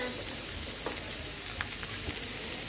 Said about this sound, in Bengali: এটাকে সুন্দর করে 2 থেকে 3 মিনিট একটু মশলার সাথে আর তেলের সাথে সব কিছু একসাথে সুন্দর করে ভেজে নেব